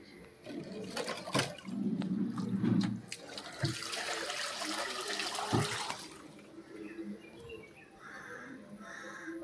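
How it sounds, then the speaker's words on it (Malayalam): Water pours and gurgles out of a home fish tank as it is drained during cleaning, with a steady splashing rush that runs for several seconds before easing off, with a few light knocks and brief faint bird calls. "ഇനി നമുക്ക് ഇതിലത്തെ വെള്ളം കളയാട്ടോ."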